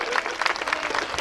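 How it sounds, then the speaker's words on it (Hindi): A crowd at a Kaj-style stage show in Etawah gives a short burst of loud clapping to welcome guests, dense and fairly near. "आप लोग जोरदार तालियों से इनका स्वागत करें।"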